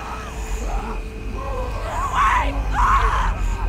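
A girl screaming in The Walking Dead video game, two loud anguished yells rising over a low rumbling background, with a brief distant cry earlier.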